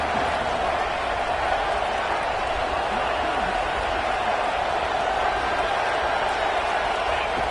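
Steady roar of a stadium crowd in a football video game, cheering for the defense down in the red zone, a broad continuous wash of noise holding level for several seconds with no distinct claps or shouts.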